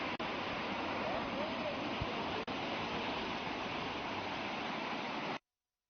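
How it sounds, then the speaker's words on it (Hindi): Fast floodwater after continuous heavy rain in Purola, Uttarakhand, rushes in a dense, unbroken roar, loud and constant with faint voices under it, before cutting off abruptly. "लगातार हो रही बारिश के चलते पानी का जो बहाव है वो काफी तेज हो चुका है"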